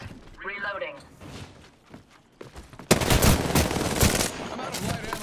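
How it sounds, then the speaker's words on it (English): Rapid automatic gunfire in a video game breaks out as a dense, loud burst of shots after an earlier stretch of quieter sounds and brief voice callouts. "Opening fire."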